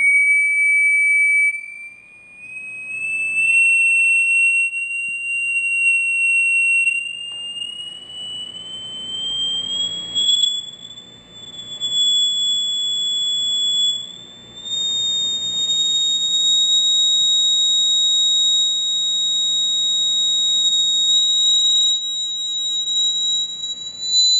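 A pure electronic tone climbs steadily higher in pitch, sustained and unbroken, with a fainter higher partial and soft background noise beneath.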